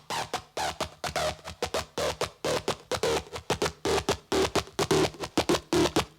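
Acid bass line from a Monarch Minimoog simulation in Reaktor, short punchy staccato notes in a fast, driving rhythm, loud and dry with no voice over it.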